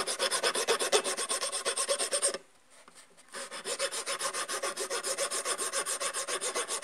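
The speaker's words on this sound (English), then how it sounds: "I've got just a regular little metal file, and I'm just going to stick this on here as flat as I can" A small metal file rasps in quick, even strokes against the edge of an electric motor brush, loud and close, pausing for about a second before the rhythmic scraping resumes.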